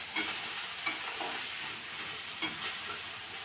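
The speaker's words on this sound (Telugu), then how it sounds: "లైట్గా గోల్డెన్ కలర్లో వచ్చేంత వరకు కొంచెం లైట్గా ఫ్రై చేసుకొని దాని తర్వాత పీసెస్ దాంట్లో వేసేసాం." Pieces of kanda gadda (yam) fry in oil, giving a steady, fairly quiet sizzle with a few soft stirring clicks throughout.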